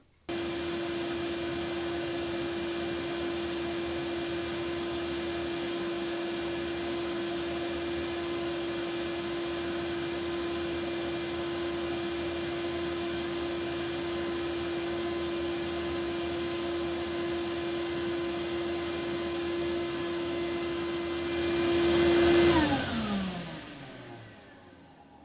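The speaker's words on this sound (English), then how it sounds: "I'm going to go ahead and get this thing started" A shop vac runs at a steady, loud whine for over twenty seconds, then is switched off and winds down with a falling pitch until it stops.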